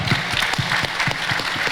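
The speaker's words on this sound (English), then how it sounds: "Quick round of applause." Brisk audience applause at a Latin American startup summit panel, a full, even burst of many hands clapping close and continuous for under two seconds.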